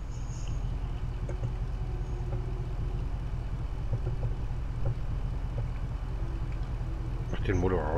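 Low steady rumble of an idling truck engine in the Snowrunner video game, running continuously and fairly loud throughout, with a voice speaking over it and a brief rising sound near the end.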